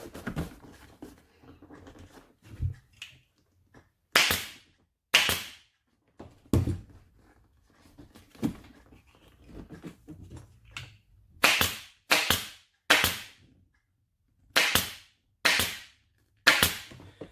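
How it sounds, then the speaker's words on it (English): Air-powered staple gun driving staples into motorcycle seat upholstery, firing sharp close snaps singly and in quick bursts of two to three, separated by quieter handling and rustling of material. "So I use this air staple gun called Bear."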